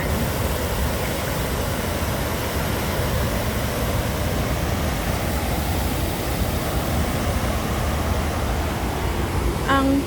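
Water feature in Chater Garden, Hong Kong, a steady broadband rush of flowing water, close and continuous, with a faint voice at the very end.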